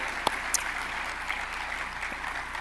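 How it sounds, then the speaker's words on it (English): A round of applause for Amy from the convention audience at the HDSA opening ceremony, steady massed clapping in a large room with a few sharper claps standing out. "Let's give another round of applause for Amy"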